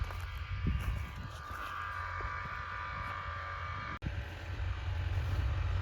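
A steady, rumbling New Holland TD85 D tractor engine drones close by as it approaches on a farm field, its low hum holding nearly constant with a broad noisy wash over it and no voices.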